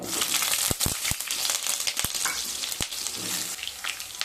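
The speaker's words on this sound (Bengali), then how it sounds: "প্রথমে কড়াইতে সাদা তেল দিয়ে দিলাম। এবার আলুগুলোকে ভেজে নেব।" Potatoes fry in white oil in a wok with a loud, continuous sizzle, broken by several sharp crackles and knocks as the pieces are moved about.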